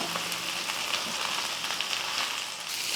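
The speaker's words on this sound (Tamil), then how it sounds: "ஒரு ரெண்டு கைப்பிடி அளவு புதினாலாம் நல்லா வதக்கிக்கலாம்" A couple of handfuls of mint leaves with coriander sautéing in a pan produce a continuous, fairly loud crackling sizzle with faint pops throughout.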